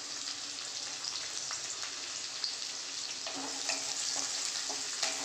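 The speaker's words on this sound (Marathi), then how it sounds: "तेल गरम झाल्यावरती सर्वप्रथम आपल्याला हा लसूण भाजण्यासाठी मी घातलेला आहे" Garlic and green chilies frying in hot oil for a moong dal and fenugreek dish give a steady, fairly quiet sizzle with scattered crackles and pops, continuous and close throughout.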